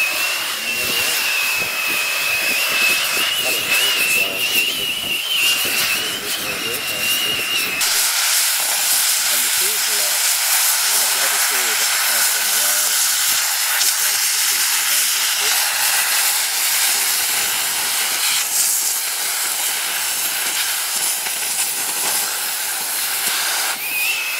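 An oxy-acetylene cutting torch hisses loudly and steadily while cutting outback railway track, a continuous broadband roar that holds for the whole stretch with a brief shift in tone partway through.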